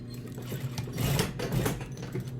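A sewing machine stitches down the folded hem at the end of a jacket sleeve, giving a steady close whirring hum with a rhythmic needle chatter throughout.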